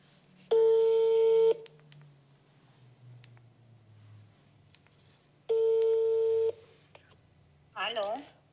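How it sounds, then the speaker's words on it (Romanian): A telephone ringback tone during an outgoing call: two loud, steady one-second rings about four seconds apart over quiet line hiss, followed by a brief burst of a voice answering at the end. "Să vedem primul număr de telefon."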